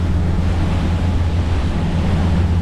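Rough sea off a headland churns around a small boat, a constant heavy roar of waves and surf with wind buffeting the microphone, loud and close, with no speech.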